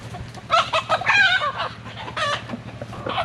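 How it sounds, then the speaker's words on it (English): A neighbor's rooster clucks repeatedly in short choppy bursts, then breaks into a loud crow, close by and with no voices over it. "Yeah, this isn't our rooster."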